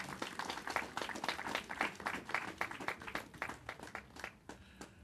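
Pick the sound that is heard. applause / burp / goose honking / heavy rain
applause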